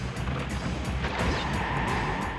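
A vehicle drives in the Crash Bandicoot: The Wrath of Cortex video game, giving a steady engine drone with a rough, scraping tire noise running throughout, close and continuous.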